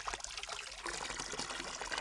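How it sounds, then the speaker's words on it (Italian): Water from a spring trickles and pours in a continuous, close, bright splashing stream with no talking. "Questa è l'acqua della fonte."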